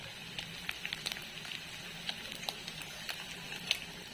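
Village-style egg bhurji frying in a pan, giving a steady close hiss with scattered sharp crackles and pops throughout and no voices.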